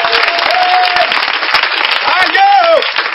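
A church congregation applauds and cheers the Lord, dense sustained clapping mixed with voices and sung or shouted tones, loud and close throughout.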